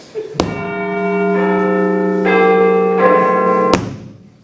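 A front doorbell chimes loudly during a high school stage show, a sustained bell-like tone shifting pitch through a few notes, opened and closed by sharp knocks or clicks.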